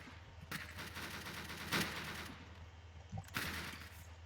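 Two bursts of gunfire in the Roblox game Arsenal, one around midway and another near the end, sharp and fairly loud over a steady low hum.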